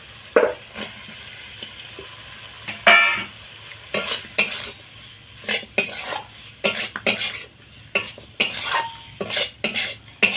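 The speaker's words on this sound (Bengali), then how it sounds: "এবারে এর মধ্যে ভেজে রাখা কাঁকরোলগুলো দিয়ে দেবো" Fried pointed gourd stirred into spice masala in a pan: irregular clanks and scrapes of a metal spatula against the pan over a low sizzle, close and fairly loud, with pauses between bursts of stirring.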